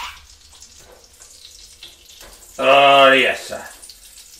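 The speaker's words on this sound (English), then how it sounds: "Okay, you can hear it sizzling." Asparagus appetizers stuffed with mustard and cheese sizzle as they brown and crisp in a pan, a steady soft hiss running throughout, while a voice briefly speaks near the end.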